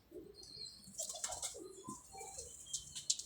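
Pigeons of a fancy breed flutter and flap their wings at close range, with scattered soft coos and small rustles in a loft setup, and no talk over it.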